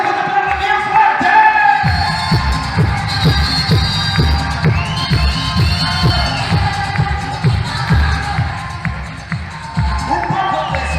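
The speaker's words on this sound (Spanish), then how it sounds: "el público te aplaude bien fuerte" A crowd cheers and shouts at a quinceañera party in a banquet hall, lively and loud over a thumping, rhythmic music beat, with voices calling out in the mix.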